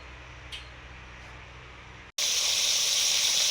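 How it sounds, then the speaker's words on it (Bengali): Fish frying in a pan, heard after a short quiet stretch as a sudden, loud, continuous hiss and sizzle that holds steady and close to the end, with no speech. "মাছ ভাজা শুরু করেছি।"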